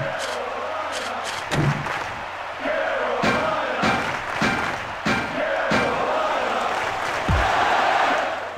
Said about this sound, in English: You heard a crowd chant in Carolina.